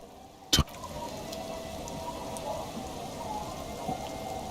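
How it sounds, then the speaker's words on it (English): Steady light rain patters throughout a street scene in the video game Disco Elysium, with a single sharp knock near the start over the soft, even hiss of falling water. "It's getting late, and it's raining."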